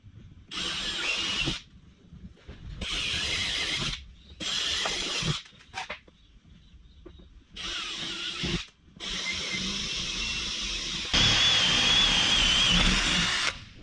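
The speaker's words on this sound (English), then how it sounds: "now we need to drill out every single one of these rivets" A power drill whines in repeated bursts of a second or two, drilling out rivets on a Land Rover Defender window, pausing between each, with a longer, louder final run.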